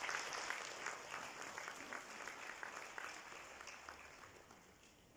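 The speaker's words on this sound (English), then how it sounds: "Can we have a big round of applause for this" An audience claps continuously for several seconds, a dense even wash of many hands at moderate distance, fairly faint and steady, tapering slightly toward the end with no voice over it.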